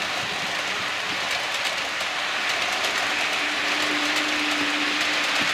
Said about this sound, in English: One perfectly free running train now.